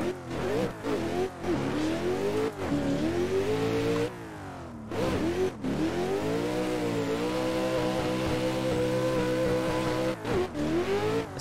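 Kevin Stump's Nissan 400Z competition drift car screams through a full run in fifth gear, its engine revving high and steady with brief lifts and sharp gaps between pulls, close and loud, with tire noise mixed in.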